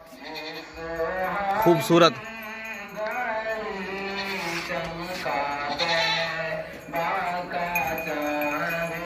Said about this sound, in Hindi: कुर्बानी वाला बकरा है, खाता पीता सेहतमंद।